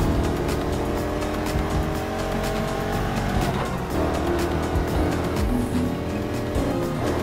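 A muscle car races in Need for Speed Heat, its engine roaring steadily and loud with shifting tones, tires squealing and skidding through corners, no voices over it.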